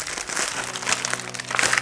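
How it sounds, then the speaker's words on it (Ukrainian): A plastic packet from a US military ration is torn and crinkled open close up, with steady rustling and crackling of the wrapper. "Ага, це як розірвати."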